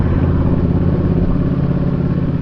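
A Triumph Bonneville Bobber fitted with a quieter aftermarket exhaust running, its steady mid-pitched engine drone and low rumble continuous and close, with no talking.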